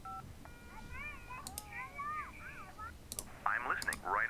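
Phone keypad digit tones in the 911 Operator emergency-call game: several short beeps pressed in a quick irregular series, with a faint child-like voice and chatter in the background.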